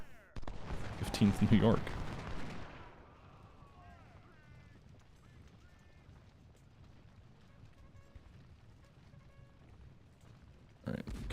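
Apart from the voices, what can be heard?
gunfire in the video game Ultimate General: Civil War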